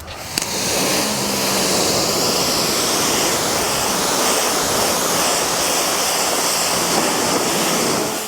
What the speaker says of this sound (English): So I think we're gonna just rinse that off first with the 25 degree tip,